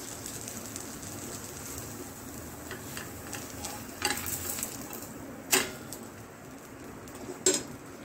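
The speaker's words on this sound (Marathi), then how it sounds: "आता एखाद मिनिटभर मी ओपन म्हणजे झाकण न ठेवता ओपन पॅनवरतीच मी आपलं पॅनकेक शेकून घेते." Oats pancake frying on an open, uncovered pan: a quiet, steady sizzle with a few sharp ticks and taps of a utensil, faint and close.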